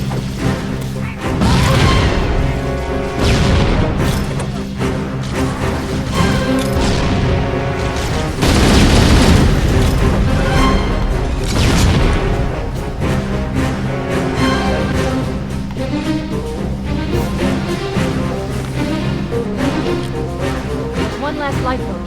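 Grenade explosions boom amid dense gunfire and combat noise aboard the ship Pillar of Autumn in Halo CE Anniversary on Xbox One X, loud and continuous, with a voice shouting over the battle.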